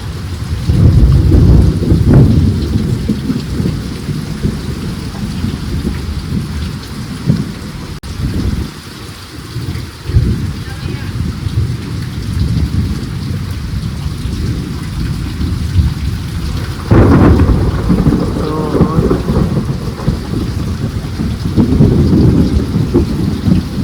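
Steady heavy rain pours down with low rumbling thunder rolling through, swelling louder near the end.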